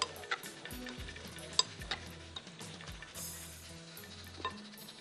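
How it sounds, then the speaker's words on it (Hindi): Fish batter of egg and gram flour being stirred in a bowl, with soft irregular scraping and occasional light clinks from a spoon, close and fairly quiet, without any talk. "बहुत अच्छी तरह से मिक्स कर दीजिए ताकि अंडा और सब कुछ इसमें"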